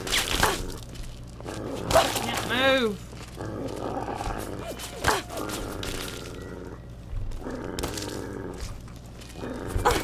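A centaur creature in Fallout 3 growls and roars in deep, rough bursts, close and loud, interleaved with gunfire-like impacts and a voice talking between them.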